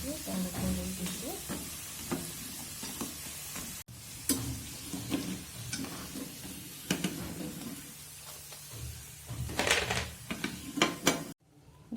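Boondi for motichur laddu being stirred in a pan, with scraping and clinking of a utensil against the pan over a soft sizzle, irregular strokes close up, with occasional voices nearby.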